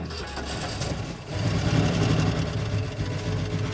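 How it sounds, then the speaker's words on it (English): An abandoned Ford Econoline van's engine cranks briefly and then catches, settling into a steady, rough idle that carries on close by, with no one speaking. "Well, it starts right up."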